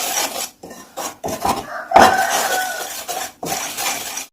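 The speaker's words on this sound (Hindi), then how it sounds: "अब इनको हम थोड़ा मिक्स कर लेंगे" A spoon scrapes and clinks against a bowl while egg and ghee are mixed for pizza dough, giving a steady run of short rubbing strokes with brief pauses between them and no talk.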